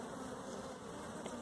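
A dense, steady buzz of many bees at a small hive hums close by without pause.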